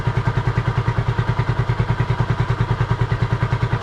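A Honda CB250RS motorcycle engine idling with heated clothing and lights switched on: a steady, close, loud single-cylinder thump with a fast, even rhythm and a clattery mechanical edge, heard alone.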